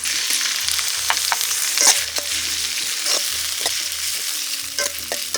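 Green chilies, dried red chilies and small tomatoes frying in a pan for a village-style goat gravy, with a steady close sizzle broken by repeated scraping and stirring strokes, no talk.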